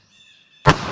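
A pistol firing .22 Magnum CCI Maxi-Mag TNT gives a single sharp, loud crack, preceded by a faint electronic tone.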